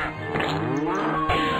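Space cows in the video game Rockitty let out a synthetic, close-up moo, a short drawn-out lowing tone with a second moo starting near the end, heard alone without talk.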